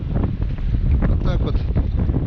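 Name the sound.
wind while fishing from a boat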